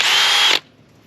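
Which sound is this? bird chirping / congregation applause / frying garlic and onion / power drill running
power drill running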